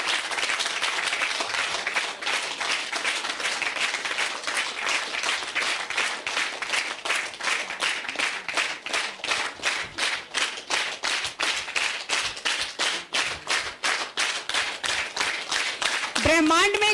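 An audience at a pyramid inauguration during a meditation festival claps in strong rhythmic unison, a loud, fast, even beat of many hands sustained for a long stretch, ending in a brief vocal sound.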